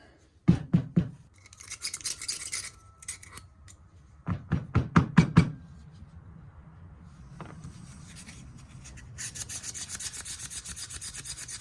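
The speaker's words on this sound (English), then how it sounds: "400 grit sandpaper." 400 grit sandpaper rubs over a vintage Schrade Old Timer pocket knife during a restoration, heard as quick bursts of scratchy back-and-forth strokes, then pauses, then a longer steady rasp, close and without speech.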